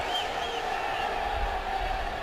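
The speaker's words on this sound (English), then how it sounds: "the smattering of boos coming down from the crowd" Crowd booing at a 2011 preseason football game between the Texans and 49ers in the stadium, a steady, distant wash of crowd noise that rumbles on without a break.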